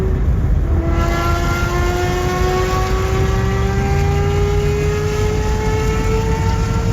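A Pagani Zonda engine at full throttle gives a loud, sustained high-revving wail whose pitch climbs steadily through the whole run, with a rough underlying roar and no talking.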